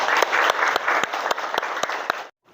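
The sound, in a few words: classroom applause for a student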